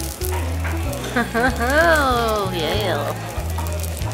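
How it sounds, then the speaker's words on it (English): Steak sizzling in a frying pan, a continuous hissing crackle close by, with a voice speaking briefly over it and faint tonal clatter underneath. "Sizzle, sizzle, sizzle."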